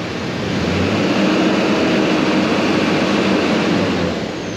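Duramax diesel truck engine idling at a raised idle on a dual-alternator setup, a steady loud drone with constant low rumble and broadband roar throughout, without speech.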